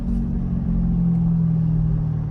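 Factory-tuned car exhaust rumbles steadily while decelerating below 3,000 RPM, a low, continuous burble close by with no talk.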